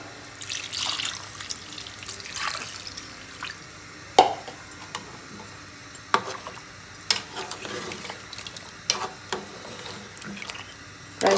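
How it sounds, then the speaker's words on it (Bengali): Water is poured into a pot of meat curry and stirred, with a steady running, splashing wash and soft clinks and knocks recurring every second or two. No one speaks. "এখন আমি পানিটা দিয়ে"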